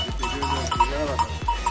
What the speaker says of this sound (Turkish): Değirmenbükü'ne doğru giderken bize keçiler karşılıyor.